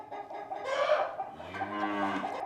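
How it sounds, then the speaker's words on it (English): A calf bellowing during clamp castration on a farm, a short close bawl that rises into a drawn-out low moo, heard alone. "he lets out a little bit of a beller"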